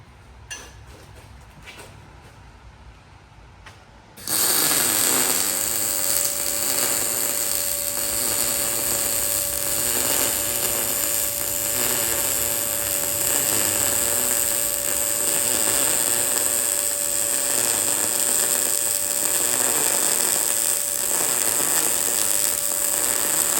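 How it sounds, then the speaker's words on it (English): Welding on custom steel rock sliders: a loud, steady crackling buzz begins abruptly after a few seconds of quieter room noise and holds without a break to the end, with no talking. "We're gonna start welding now."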